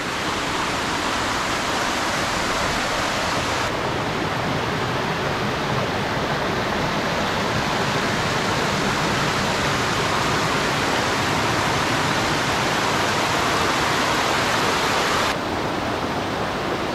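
Water from the Manippara falls pouring into a canal, a loud, continuous broadband roar close by that stays steady throughout with no talking.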